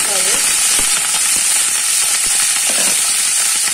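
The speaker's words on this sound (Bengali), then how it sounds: "দিয়ে ফুলকপিগুলো আমি ভেজে নেব, আর ফুলকপিগুলো হালকা ভাজতে হবে" Cauliflower florets being lightly fried in a pan for a restaurant-style rezala give a loud, steady sizzling hiss, with scattered clicks and scrapes of a utensil.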